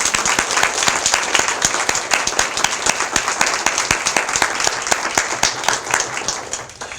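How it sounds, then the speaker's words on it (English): A school audience at an elementary academic growth celebration breaks into sustained applause, dense overlapping claps at steady strength that taper off slightly at the end. "I think that accomplishment deserves a giant round of applause"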